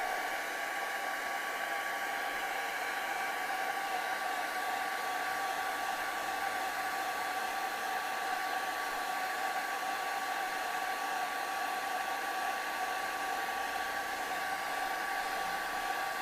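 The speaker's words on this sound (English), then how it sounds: "I'm going to blow dry this, because if this is not dry, then I'll have a whole other mess on my hands." A hair dryer blows steadily to dry acrylic paint on a canvas, a constant even whoosh with a whining tone that runs unbroken at moderate loudness, with no talking.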